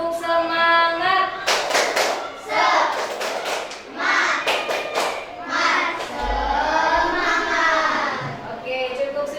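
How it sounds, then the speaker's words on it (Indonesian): A class of students does a rhythmic spirit clap, bursts of patterned clapping and slapping in a classroom mixed with children's voices chanting along. "Tepuk semangat."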